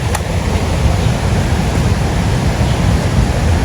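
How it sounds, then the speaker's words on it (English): Sezibwa Falls in Uganda, a steady broadband roar of rushing water, loud and close, continuous without a break. "there's like another waterfall here."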